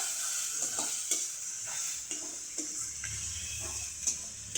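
Chicken with spices, including chili, sautéed in a pan with a steady close sizzle and repeated scraping strokes of a spatula stirring.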